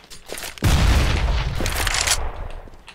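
A grenade blast in the tactical shooter CS:GO hits loud and near with a sudden heavy boom, then a dense rumbling roar that holds steady for over two seconds before easing off.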